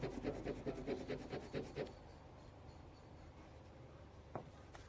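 A metal ring scratched against a testing surface to leave a streak mark: a fast series of harsh, gritty scraping strokes for about two seconds, then near silence with one faint tap.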